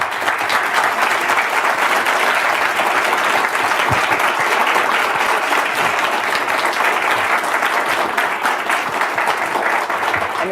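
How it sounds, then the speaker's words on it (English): Sustained, dense applause from a large audience at the Davos 2019 World Economic Forum meeting, loud and steady for the full ten seconds with no speech over it. "please let's give another round of applause to Jack for his time"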